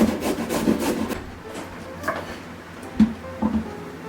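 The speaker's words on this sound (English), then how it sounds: "So I grated the first 3 carrots" Carrots are rubbed by hand against a grater in a home kitchen, giving several rasping strokes in an uneven rhythm, louder at first and then fading to a few sharper scrapes near the end, with no talk.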